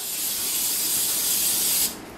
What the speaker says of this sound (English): Spray the cooking sheets with the cooking spray, and then put another sheet on top.